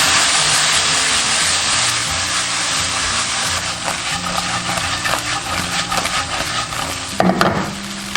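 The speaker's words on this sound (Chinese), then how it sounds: "下入大头虾，淋入调好的酱汁，沿锅边淋添料酒，大火翻炒1分钟" Big-head prawns with red chili rings, sauce and cooking wine stir-fried over high heat in a wok, a steady loud sizzle with scraping spatula strokes and a brief clatter near the end.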